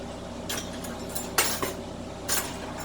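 Measuring spoon and metal cutlery clinking in a kitchen during marinara cooking, a few brief bright clinks and rattles spaced apart over a quiet room background.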